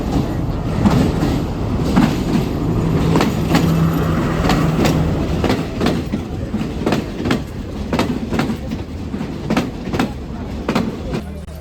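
A train on the Sri Lankan hill-country line toward Nuwara Eliya rumbles steadily along the tracks with a rhythmic clickety-clack of wheels over rail joints, loud and close.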